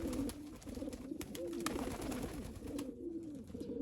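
Soft, low cooing from Jansen de Klak racing pigeons repeats steadily through the clip, a murmuring cluster of calls with faint background noise.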